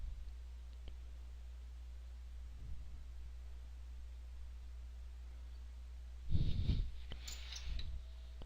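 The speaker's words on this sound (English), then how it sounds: "I'm double clicking" Soft clicks from a computer mouse being double-clicked while working in CarveWright Designer software, faint and brief against a quiet background hiss, with a short breathy noise nearby.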